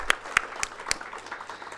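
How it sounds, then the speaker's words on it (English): Brief, sparse clapping from a seminar audience honouring a speaker at a course on FEMA: a few distinct claps at an uneven pace, fairly close, fading into a low background hum. "kindly give your very big round of applause to Mr."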